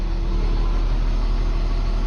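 A JCB Fastrac tractor with 9,000 hours on it idling close by, a steady loud low engine rumble with a constant hum and no voices.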